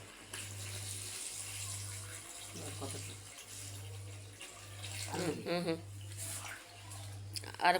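Water poured into a pot of fried mutton for pulao gives a steady splashing, running-water sound. Talk is heard over it, and there is a regular rhythmic low hum underneath.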